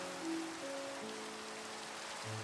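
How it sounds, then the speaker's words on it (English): Rain falls in the modded video game Minecraft (All The Mods 6) as a constant soft hiss, with low sustained background music tones underneath and no speech. "I'm really tired of this rain."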